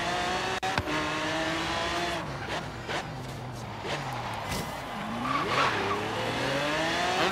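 Car in the Forza Horizon 3 racing game braking hard, tires squealing in a long wavering screech over a revving engine, with a brief thud near the start.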